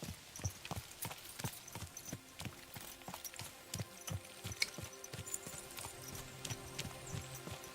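A horse's hooves clop in a steady walking rhythm on hard ground in the game Kingdom Come: Deliverance 2, close and clear, with faint tack jingles.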